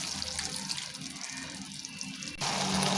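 Water poured from a tap or jug into a pan of ground onion chutney paste, a steady rushing splash that swells louder toward the end, heard alone without talk.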